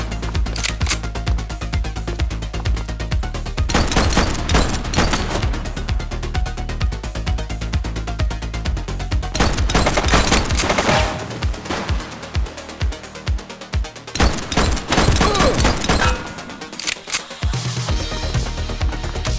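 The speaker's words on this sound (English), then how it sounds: "He's shooting!" Rapid gunfire from a police shooter game called The Precinct, with dense bursts of sharp cracks and short pauses, loud and close over a steady bed of game music and ambience.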